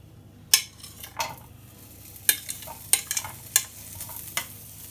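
Onions dropping into hot oil in a pan and frying, a quiet crackle punctuated by several sharp bursts of sizzling and a few scraping stirs.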